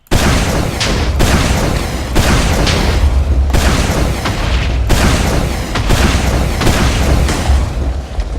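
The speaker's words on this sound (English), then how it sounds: "Now let's go with the primary, the rocket launcher." Rocket launcher blasts from a Team Fortress 2 mod in the Minecraft video game, a run of loud, booming explosions firing in quick, fairly regular succession, one after another with no talk.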